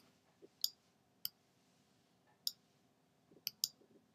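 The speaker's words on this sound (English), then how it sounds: "right click" Computer mouse clicks, six or seven short, crisp, close clicks spaced irregularly, including a quick pair near the end, over a quiet room with no talking.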